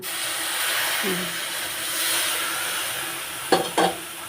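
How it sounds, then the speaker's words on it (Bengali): Milk is poured into semolina halwa frying in a pan, giving a steady hiss and sizzle close up, with a couple of short clattering stirs near the end. "এই যে এখানে আমি দুধ দিয়ে দিচ্ছি"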